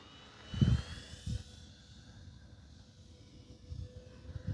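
An E-flite ElectroStreak RC airplane flies overhead, its electric motor a faint, distant whine over wind noise, with a few soft gusty bumps along the way.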